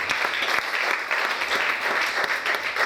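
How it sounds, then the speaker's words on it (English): A church congregation clapping their hands during a sermon, a dense, steady burst of applause with sharp individual claps close by, no speech over it. "Can we clap our hands?"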